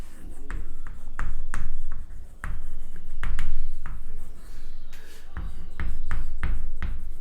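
Chalk or marker writing on a classroom board during a lesson on crop production: repeated short scratchy strokes and taps in uneven bursts, close and fairly loud, with no talking.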